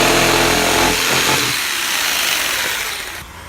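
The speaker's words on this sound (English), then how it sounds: "So first I need to cut this further with the jigsaw." A jigsaw cuts through material while a film prop is being made, a loud buzzing saw sound that runs steadily for about three seconds, then fades and stops near the end.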